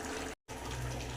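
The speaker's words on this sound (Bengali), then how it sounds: "জল দিয়ে দিব।" Water poured into sizzling fried spices in a pan while cooking a Bengali prawn curry with potato and pointed gourd, a steady close gushing splash that breaks off briefly, then resumes.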